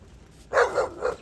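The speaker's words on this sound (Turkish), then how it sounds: "Bak başladı havlamaya." A dog barks three times in quick succession, close and fairly loud, with short gaps between the barks over a quiet background.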